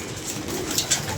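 Pigeons cooing close by, a short run of soft, throaty coos over a low ambient hum, with no talking.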